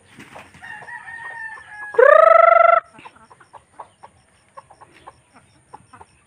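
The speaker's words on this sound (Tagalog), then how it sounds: "Takot yung mga manok natin." Frightened chickens near a banana grove: a single loud rooster crow rings out close by, followed by a string of short, nervous clucks scattered over the next few seconds.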